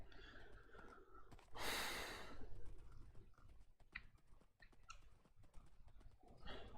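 A horse in modded Minecraft clip-clops along in a steady run of soft hoof taps under faint background game noise, with one louder rushing burst partway through.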